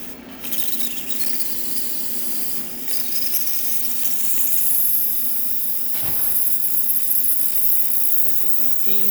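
A Breville espresso machine's steam wand hisses steadily and loudly throughout, a broad continuous rush with a brief gurgling dip partway, while a voice speaks over it.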